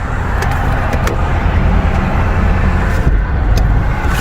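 Road traffic rushes past a stopped car in a continuous loud roar, with a few brief clicks and knocks close by and no speech.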